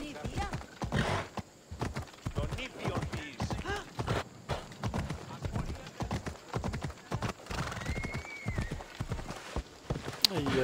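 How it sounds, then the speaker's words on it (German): Horse hooves clip-clop at a riding gait in the video game Assassin's Creed Odyssey, a steady rhythmic patter with an occasional whinny, under someone talking throughout. "Reiten wir vor, Boss."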